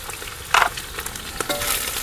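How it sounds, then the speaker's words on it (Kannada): Freshly grated coconut frying in a pan for lemon rice, a soft sizzle with a few quick scraping stirs and a brief louder clink. "ಇದನ್ನೆಲ್ಲ ಸ್ವಲ್ಪ ಚೆನ್ನಾಗಿ ಫ್ರೈ ಮಾಡ್ಕೊಂಬಿಡೋಣ"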